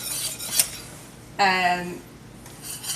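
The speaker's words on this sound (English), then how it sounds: "you want to stir it for the whole time" A utensil stirs chocolate pie filling in a cooking pot, giving soft scrapes and one sharp ringing metallic scrape against the pot's side, close and clear.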